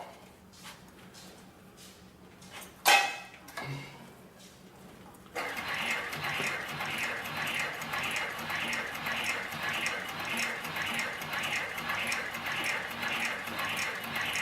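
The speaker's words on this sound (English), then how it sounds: "we'll sew this piece of 10 to 12 ounce leather to the piece of 5 ounce" A sewing machine stitches through a heavy 10 to 12 ounce leather piece joined to 5 ounce leather, starting with a few clicks and a clunk, then settling into a fast, even, continuous mechanical chatter close by.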